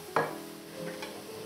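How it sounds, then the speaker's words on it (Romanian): Carrots and onion sautéing in a pan: a sharp scrape of stirring, then a steady, quiet sizzle that carries on underneath. "Și călim și cu morcovul."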